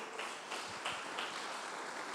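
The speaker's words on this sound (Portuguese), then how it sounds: "Bata as palmas aí." Church congregation clapping hands together, a faint, steady patter of many hands continuing throughout without any speech.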